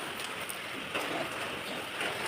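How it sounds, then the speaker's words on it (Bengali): Steady rain falls outside after a night of storms, a constant soft hiss with occasional slightly louder gusts, with no voices. "এখনও বৃষ্টি পড়ছে"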